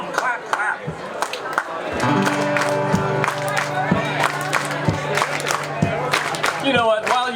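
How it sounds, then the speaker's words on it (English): A large outdoor Renaissance festival crowd stomps and claps in a steady rhythm alongside a Celtic band's sustained music, with cheers and shouting voices mixed in throughout. "Everybody go like this. Stomp, clap, clap."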